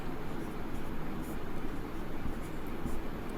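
A pen scratches across paper during a class 10 maths lesson, a continuous close rasping with small irregular strokes and no pauses.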